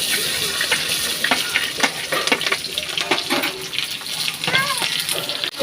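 Black cumin seeds and garlic fry in a pan for a ghatkol bata recipe, giving a steady close sizzle with crackles and stirring scrapes while a voice talks over it.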